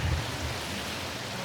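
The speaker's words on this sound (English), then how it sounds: "It's so cold and so rainy." Steady rain falls in cold weather in Normandy, making a dense, even hiss that is fairly loud and continuous throughout, with no voices.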